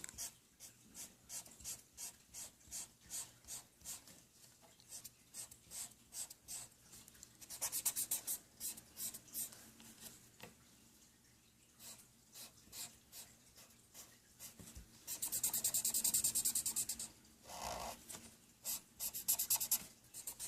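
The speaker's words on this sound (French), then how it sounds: "On continue à colorier jusqu'à qu'on a fini." Pen strokes scratch steadily across a paper mandala as it is colored in, a close, dry rasp in quick repeated bursts with a few louder, denser stretches of scribbling and no talking.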